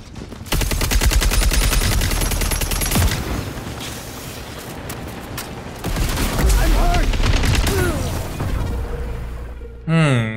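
Gunfire in the shooter game Concord, played on PS5, with sustained loud bursts of automatic fire and booming impacts running nearly nonstop, briefly dipping before resuming, while a player talks over it.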